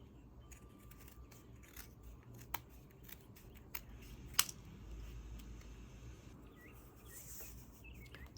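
Scissors snip at a toilet paper spool craft piece in a quiet room, a few sharp isolated clicks and cuts spread out over soft handling noise, close and faint.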